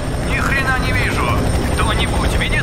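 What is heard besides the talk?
helicopter flying in video game F.E.A.R. 3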